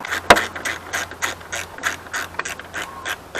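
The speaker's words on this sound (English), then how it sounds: "Now we'll just snug these nuts up." Ratchet wrench snugging the mirror mounting nuts on a Dodge RAM door, a run of quick repeated clicks in short bursts, close and fairly loud with no talking.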